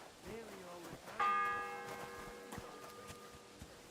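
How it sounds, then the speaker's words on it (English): A church bell in the medieval world of the video game Kingdom Come: Deliverance II strikes once, loud and ringing, with a long decaying hum after it. A voice talks briefly just before the strike. "Ninth bell. Only 3 to go."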